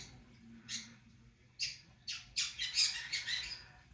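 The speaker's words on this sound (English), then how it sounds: "You hear this bird saying birdie birdie" A bird squawks in a series of harsh, bright calls, starting sparse and then coming in quick bunches, fairly close over a low background hum.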